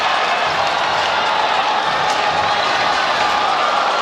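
Dense, steady crowd noise fills an indoor arena at a professional basketball game between the Taipei Fubon Braves and Formosa Taishin Dreamers, a continuous roar of cheering and applause.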